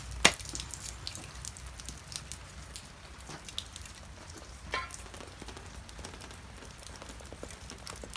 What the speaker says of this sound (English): It's raining, but still we can cook in the rain.